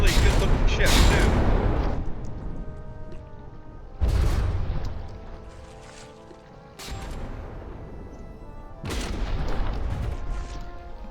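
Warship guns fire in the naval combat game From the Depths, heavy booming salvos at roughly two-second intervals, each burst loud and dense and then fading with a rumbling, creaking tail.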